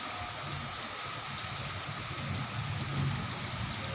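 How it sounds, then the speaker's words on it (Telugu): Heavy rain pouring at a hilltop temple, a dense, even hiss of drops on surfaces with a low rumble beneath, steady and close for the whole stretch, no voices. "ఫుల్ వర్షం, అసలు ఏమి కనబడేదు."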